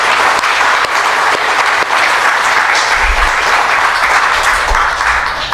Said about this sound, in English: who deserves a very large round of applause for what he has done